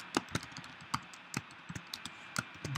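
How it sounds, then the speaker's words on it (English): Typing on a computer keyboard while writing code, a quiet, irregular run of close key taps and clicks with brief pauses between bursts, no speech. "I can manually type it in."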